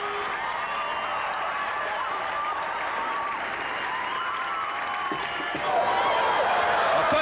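A stadium crowd cheers and applauds steadily after the North Carolina women's soccer team wins an NCAA championship, a dense roar that swells louder toward the end.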